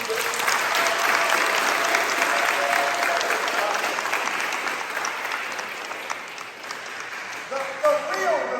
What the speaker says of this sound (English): One more time, big applause for Will Smith.